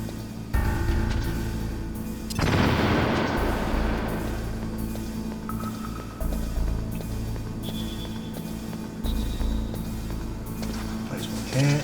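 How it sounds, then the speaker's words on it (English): A C4 explosion in the Metal Gear Solid video game: one heavy blast bursts out early, then a long rumbling decay sinks under steady game background noise, followed by a few softer thuds later. "leave you with 3 lots of C4. Couple more explosions."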